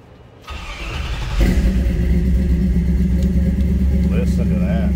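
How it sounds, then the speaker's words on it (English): A 1967 Chevrolet C10 pickup with a 6-liter LQ4 V8 and aluminum heads cranks and fires, then settles into a loud, steady, deep idle rumble close by, with a voice faintly audible underneath. "Let's go ahead and fire this up."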